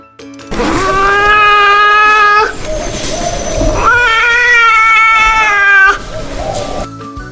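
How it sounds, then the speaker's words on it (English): Two long, wavering animal wails, loud and close, each drawn out for a couple of seconds with a growly pause between them. "The binturong lives in the rainforests of Southeast Asia. This is the sound they make when they communicate."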